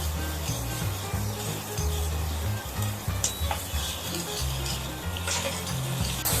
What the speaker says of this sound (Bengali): আমি মশলাটা কষতে থাকছি।